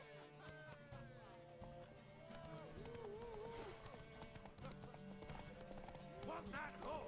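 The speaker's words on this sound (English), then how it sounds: "I guess I will have to actually participate in a horse race." Rhythmic hoofbeats of a horse galloping in a video game horse race in The Witcher III: The Wild Hunt, running steadily under game music and occasional voice, with a whinny near the end.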